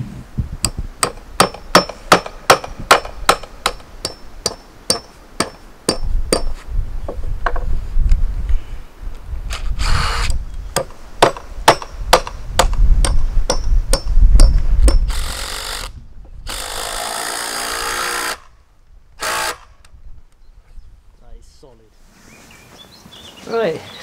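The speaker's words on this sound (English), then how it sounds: "just a normal hammer drill" A hammer drill bores into an earthbag wall, firing in rapid, regular bursts, then running in longer continuous stretches broken by short pauses, loud and close.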